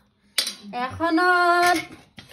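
Brass plates clink and rattle as they are handled, a couple of sharp metallic strikes with a ringing tone, heard close and clear with no talk.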